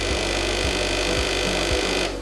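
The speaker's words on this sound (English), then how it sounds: "If it does sound like this, it means there is no water getting to the pump." A Truvox Multiwash Pro floor scrubber's solution pump runs dry with no water reaching it, giving a steady droning hum with a faint periodic pulse about every half second, close and alone before cutting off at the end.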